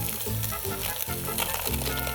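Pork chorizo sizzles and fries steadily in a hot pan, a dense continuous crackle heard up close with no talking.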